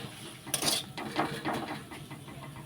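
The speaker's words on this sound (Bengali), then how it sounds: "এবার সবগুলিকে ভালো করে মিক্স করে নেব" Maggi noodle ingredients with turmeric and salt stirred in a pan, a few metallic scrapes and clinks from the utensil against the pan, close and fairly clear with no talking.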